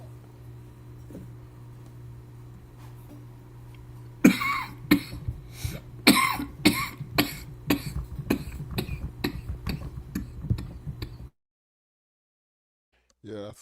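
A person coughs in a rapid series of about a dozen harsh, close bursts over steady background hum, after a quiet lead-in, then stops abruptly.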